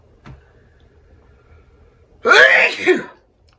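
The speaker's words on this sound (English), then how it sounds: "Might be sneezing here in just a second" A single loud, explosive sneeze bursts out near the end after a quiet stretch, preceded by a faint click.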